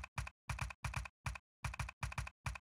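Computer keyboard typing, a short run of crisp close key clicks in quick uneven bursts, isolated and clean with silence between strokes.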